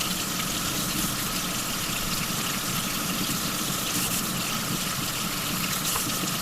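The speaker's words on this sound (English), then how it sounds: "I'm going to use some hot water out of the sink to go ahead and heat those back up" Hot water runs steadily from a sink tap while ski pole grips are being warmed: a continuous, even gush of moderate loudness, with no pauses and no talking.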